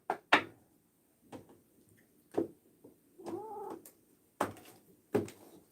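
A black cat gives one drawn-out meow, set among scattered soft knocks and clicks in a quiet indoor room.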